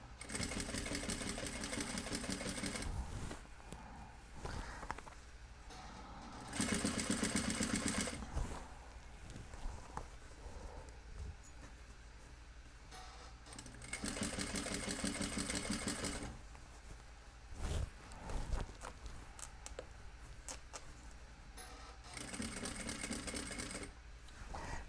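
A sewing machine stitches a jean hem in several bursts of rapid, steady whirring, each lasting a few seconds, separated by pauses filled with quiet handling noises.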